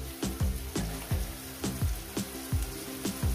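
Eggplant and shrimp frying in a pan, a continuous close sizzle punctuated by regular soft thuds and scrapes roughly every half second as the pieces are turned.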